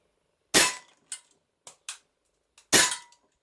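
A Cybergun Glock 17 Gen 4 full-metal airsoft pistol, rated 1.7 J, fires 4.5 mm BBs. Two loud sharp cracks are heard, with a few lighter clicks and taps between them, and no talking.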